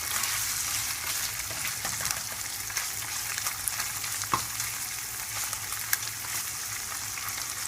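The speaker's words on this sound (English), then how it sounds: "just cook it up together with the garlic and the chili" Tofu fries with garlic and chili in a pan over medium heat, giving a steady, dense sizzle with occasional soft stirring clicks throughout, close and even in level.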